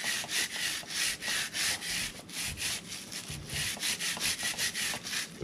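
A brush scrubs the chain of a Harley-Davidson Pan America motorcycle, making quick rhythmic bristly rubbing strokes in bursts, close and fairly loud, with no one talking.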